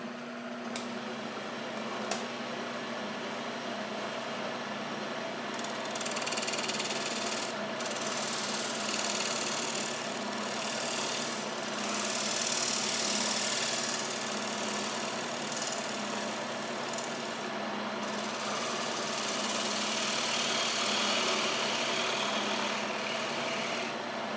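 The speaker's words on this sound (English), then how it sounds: "we'll just go ahead and use a parting tool for that. Give it a little bit more speed." Elm bowl spinning on a wood lathe while a parting tool cuts at the tenon, giving a steady motor hum with a continuous scraping, hissing cut that swells and eases over the whole stretch, close and fairly loud with no talk.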